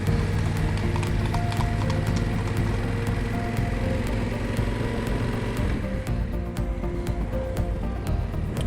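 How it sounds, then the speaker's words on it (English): A horse ridden at a leisurely walk along a road near Ribblehead Viaduct, its hooves clip-clopping steadily and fairly close, with a faint mechanical rattle underneath. "Chap riding his horse here for a nice leisurely stroll."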